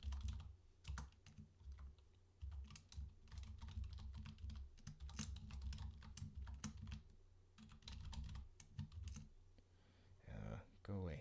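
Rapid bursts of typing on a clicky computer keyboard, close and crisp, run in dense clattering runs with short pauses as code is entered.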